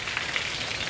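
Steady tropical rain hisses evenly throughout, a dense, continuous wash of drops with no talk over it.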